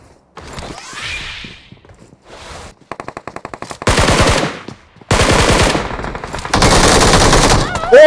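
Loud bursts of automatic gunfire from a PUBG Mobile match, with rapid rattling volleys and single shots broken by short pauses, growing heavier toward the end, alongside faint game sounds.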